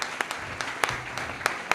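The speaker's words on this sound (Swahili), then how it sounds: "kuja hapo tusalimie, tupige makofi" Scattered applause from a church congregation during a prayer vigil, a thin patter of hands punctuated by a few sharper, louder claps at irregular intervals, moderately close.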